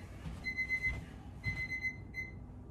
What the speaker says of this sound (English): So that timer was for 22 minutes.